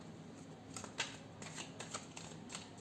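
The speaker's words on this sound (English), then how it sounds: "small deck and it's easy to shuffle" A small Sun and Moon tarot deck being shuffled by hand, a close, soft riffling patter with a few crisper snaps, steady for a few seconds with no talking.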